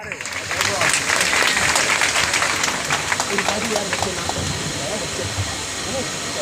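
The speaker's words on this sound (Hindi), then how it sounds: "जोरदार क्लैपिंग" Enthusiastic audience applause at a stage play about Fatima Sheikh and Savitribai Phule: dense, loud, sustained clapping that peaks early and stays strong for several seconds, with hissing crowd noise throughout.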